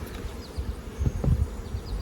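Honeybees buzz at a somewhat defensive hive, a soft, close hum with a few brief louder passes as individual bees fly by.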